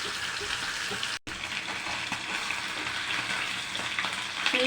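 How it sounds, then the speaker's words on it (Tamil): Small fish frying in hot oil over a medium flame, giving a dense, continuous crackling sizzle close by with a brief dropout early on. "அதுலேயே தான் பொரிக்கிறேன்."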